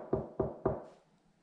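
Three sharp knocks on a piece of wooden furniture, close and evenly spaced, each with a short resonant thud, then quiet.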